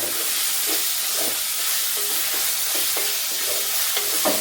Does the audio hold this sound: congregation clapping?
no